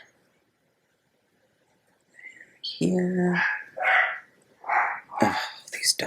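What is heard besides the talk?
dogs barking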